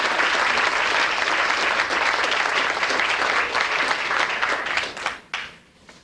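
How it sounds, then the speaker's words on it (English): A banquet audience at a fall sports banquet gives a loud, sustained round of applause for a sectional champion team, dense clapping that holds steady before tapering off near the end. "I want to give them a round of applause for that one."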